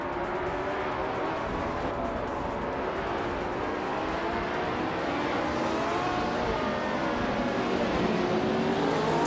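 Several race cars pull away from the start behind a 1967 Brabham BT24, engines droning and rising in pitch together in a steady, loud roar that builds slightly toward the end.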